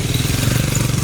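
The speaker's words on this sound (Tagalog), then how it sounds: "sa kabila may motor" A motorcycle engine rumbling loud and close on a city street, a brief steady drone lasting about a second.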